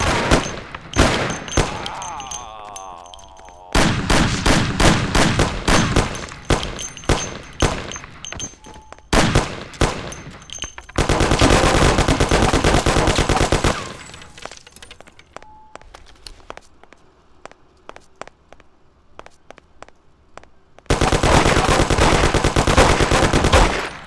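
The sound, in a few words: machine gun fire in the video game Mafia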